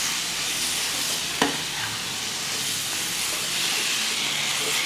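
Chicken pieces frying and sizzling in a pan for a chicken stew, a continuous loud hissing sizzle with one brief sharp knock of a utensil early on.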